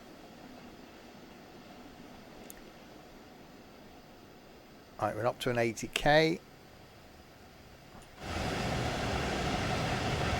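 An electric tram in Train Sim World 2 on the Dresden Nahverkehr route gives off a steady low running rumble and rail noise, with a louder, denser stretch of running noise near the end and someone talking over part of it.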